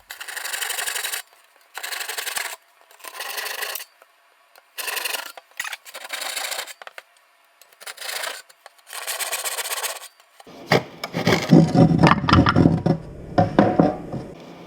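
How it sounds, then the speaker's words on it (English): A handsaw cuts through wood to finish corners, giving about eight short rasping back-and-forth strokes with brief pauses. A louder, rougher burst of sawing follows. Close and dry with no talking. "And now finish your corners with a handsaw."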